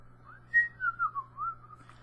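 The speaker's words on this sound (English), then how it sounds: "still don't know if that whistling is gonna pick up or not" A person whistles a short, wavering tune, several clear sliding notes close to the mic over a faint steady hum, with no talking.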